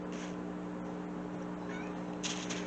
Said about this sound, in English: my cat just decided to join